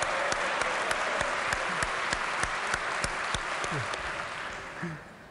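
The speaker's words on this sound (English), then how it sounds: "We might have to give her 2 rounds of applause." A second round of clapping in a West Virginia legislature chamber, steady and full before thinning toward the end, with faint voices underneath.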